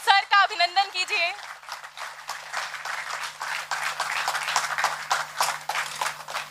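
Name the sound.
audience applause welcoming the vice-chancellor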